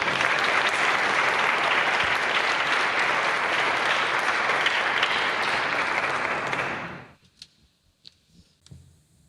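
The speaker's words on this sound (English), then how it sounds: "Give them a round of applause." Loud, dense applause from a conference audience welcoming two speakers to the stage at a community speaker event, sustained for several seconds before cutting off abruptly, followed by a few scattered claps and small knocks.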